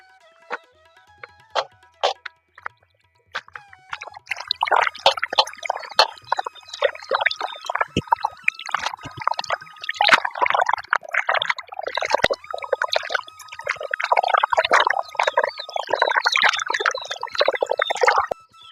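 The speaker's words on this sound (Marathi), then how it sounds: "आता ही भाजी दोन तीन पाण्याने स्वच्छ धुवून घेतली बघा" Freshly picked amaranth greens being rinsed in water, with repeated close splashing and sloshing that starts after a few quiet seconds and then keeps up with an irregular rhythm.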